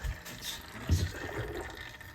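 Motor oil draining from the engine of a Yamaha YFZ450R ATV, a soft, steady trickle of liquid with faint drips and gurgles, quiet and close, under low background noise.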